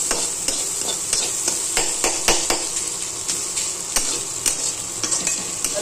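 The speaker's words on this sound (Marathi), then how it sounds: "आणि आता आहे ना हे असं चांगला फ्राय होऊन द्यायचा" Khaarvda fritters fry in a pan with a steady, loud sizzle. Frequent sharp taps and scrapes from a spatula or spoon against the metal pan punctuate the frying, and no one speaks.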